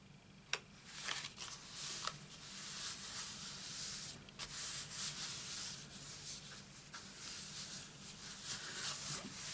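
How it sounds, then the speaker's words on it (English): Glued card pieces being rubbed down by hand during Stampin' Up card making, a close, quiet, continuous scratchy rubbing with a few small taps and ticks along the way. "Gently rub it down."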